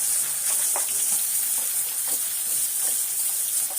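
Cinnamon, fennel, cloves and chopped country onions fry in hot oil with a continuous hissing sizzle and soft occasional stirring, steady and close with no voices.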